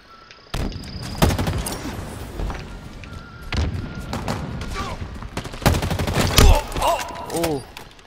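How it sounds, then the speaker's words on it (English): Enemy gunfire in Halo Infinite multiplayer capture the flag on the Behemoth map, with bursts of sharp shots and booming impacts coming in irregular clusters, loud and close, mixed with game effects and no talk. "Oh shit, someone's taking shots at me."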